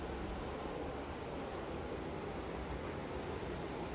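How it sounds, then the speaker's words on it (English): Indoor air conditioning unit running as a steady, low broadband hum and whoosh, constant and moderately faint with no other sounds. "my air conditioning just kicked on"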